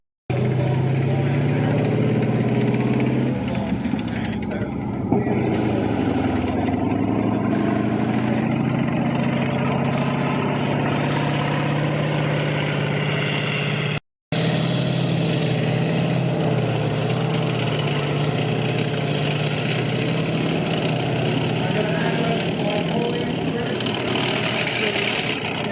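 A Sexton self-propelled 25-pounder gun, built in Canada on a Sherman-like hull, idles at a tank display, a steady deep engine rumble that continues throughout with a short break midway, with someone talking over it.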